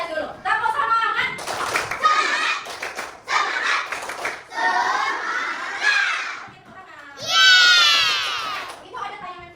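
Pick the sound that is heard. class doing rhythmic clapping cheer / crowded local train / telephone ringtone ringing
class doing rhythmic clapping cheer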